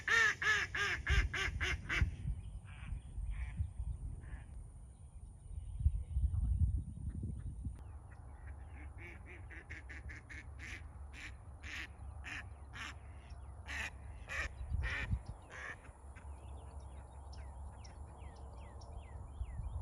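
Ducks kept in a pen beside a newly built pond quack in repeated short bursts, several calls in quick runs with pauses between, fairly close and moderately loud, over low background rumble and no talking.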